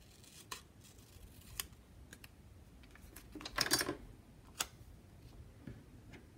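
Scissors snipping paper for a Classic Happy Planner spread, a few quiet scattered clicks and cuts with one louder burst of cutting near the middle, no talking.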